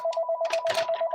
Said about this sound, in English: It doesn't ring all day until I go to do it live.